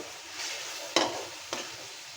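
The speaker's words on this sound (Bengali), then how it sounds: "মাংসটা আমি একটু ভালো করে ভাজা নিয়ে মশলাগুলো দিয়ে দিব" Chicken gizzard and liver fry in a pan with a soft, constant sizzle, while two sharp scraping stirs cut through it near the middle of the short stretch.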